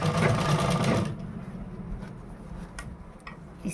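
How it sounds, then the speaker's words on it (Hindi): A sewing machine stitches a blouse at close range, a fast steady whirring run for about a second before it stops, leaving faint clicks and handling sounds. "इस तरह से हम चारों तरफ से इसमें ठीक से सिलाई लगा लेंगे।"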